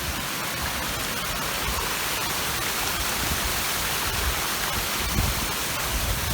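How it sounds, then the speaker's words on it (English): A small waterfall in the Welsh countryside gives off a steady, broadband rushing hiss, constant and fairly close, with no voices. "it's quite a nice little mini waterfall here."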